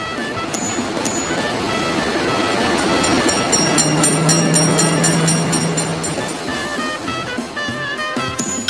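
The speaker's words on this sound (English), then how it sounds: "Train is in sight!" A train in the mobile game Railroad Crossing rumbles past with a steady low hum and clattering, with bright electronic chimes and beeps sounding over it.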